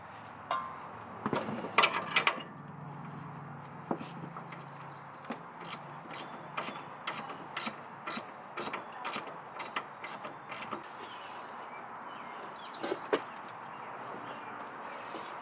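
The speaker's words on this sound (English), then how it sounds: "So now I'm just tightening up these sway bar bushings." Sway bar bushings on a Nissan Xterra, Titan or Armada are tightened with an Allen key, giving close, quiet, irregular metallic clicks and ratcheting ticks in short bursts over a faint background, with no voices.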